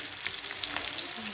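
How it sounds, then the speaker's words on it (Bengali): Koi fish shallow-frying in oil in a pan, a dense, even hiss and sizzle heard close up for a brief moment, with no talking. "মাছগুলো আমি ভেজে নেবো আর কি হালকা করে।"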